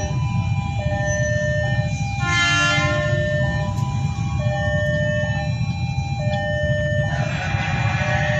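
A train passes Cikarang station with a loud, sustained horn blast layered over the continuous rumble of rolling wheels and cars, several horn tones rising and falling close by.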